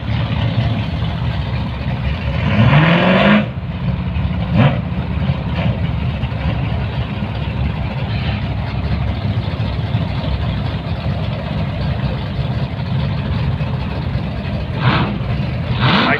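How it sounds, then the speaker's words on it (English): A 1955 Chevrolet at a drag event does a tyre burnout, a loud engine roar and rev with a rising squeal early on over a continuous heavy engine rumble. "gets a little bit of a burn on the tyres there in the big 55 Chevrolet"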